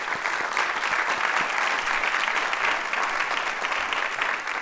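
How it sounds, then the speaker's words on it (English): Steady audience applause fills a fall faith-and-action charity event, dense and even throughout with no voices on top. "So join me in a round of applause for them."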